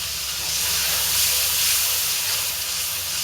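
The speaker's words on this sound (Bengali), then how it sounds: "এখন আমি চিংড়ি মাছ দিয়ে দিলাম।" Prawns sizzling in a pan with cumin powder, salt and onion-garlic paste, a close steady hiss with no distinct stirring or voices, for a dish of bottle gourd greens with potato.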